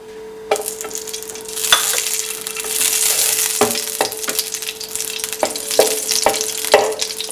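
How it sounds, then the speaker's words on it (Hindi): Ingredients frying in oil for sooji panjiri, a steady loud crackling sizzle heard close up, punctuated by several sharp utensil taps and scrapes against the pan, with no talking. "ये जब फ्राई हो जाएंगे तो इस तरह की आवाज़ आएगी।"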